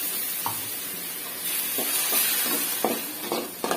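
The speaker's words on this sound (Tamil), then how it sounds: "கொஞ்சம் இஞ்சி பூண்டு வாசனை போகிற வரைக்கும் நல்லா வதக்கிடும்." Ginger, garlic, pepper and cumin sautéing in a pan for a crab gravy, a steady close sizzle with several short scraping stirs of a spoon against the pan, no talk.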